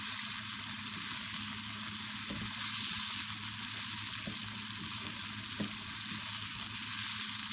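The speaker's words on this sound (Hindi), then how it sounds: "अब इसको 5 मिनट और पकाएंगे, इसी तरह फ्राई कर लेंगे।" Chicken macaroni masala frying in a pan, a steady dense sizzle with a low hum underneath and a few faint stirring knocks, continuous and close with no talking.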